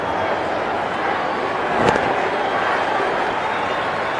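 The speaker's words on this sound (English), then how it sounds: "Applause all round." Steady broadband crowd applause fills a cricket stadium in Johannesburg during a one-day international between South Africa and Pakistan, sustained and even throughout with a brief swell midway.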